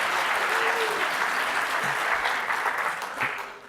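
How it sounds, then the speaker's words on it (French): Audience applause fills a closing session of a travel entrepreneurs' conference, steady dense clapping from a crowd that thins slightly toward the end, with a brief voice in the background. "pour que vous applaudissiez François-Xavier Isnik pour l'excellent travail"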